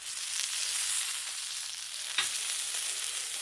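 A tri tip steak sears on a Blackstone griddle, giving a steady, close hiss of frying with one brief clack of a utensil partway through, no voices.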